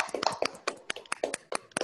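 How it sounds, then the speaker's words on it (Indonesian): Scattered clapping from a small group honoring participants at a church choir festival and children's and adults' video competition results announcement, with sparse, uneven claps at close range and no talk. "Sekali lagi kita tepuk tangan untuk kita semua peserta"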